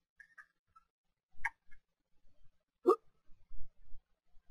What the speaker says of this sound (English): And I've got hiccups.